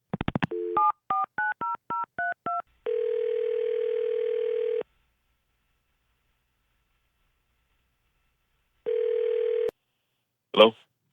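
Phone call placed from a radio studio: a quick run of touch-tone dialing beeps, then a long steady ringback tone, silence, a second ring tone, and a brief burst at the end.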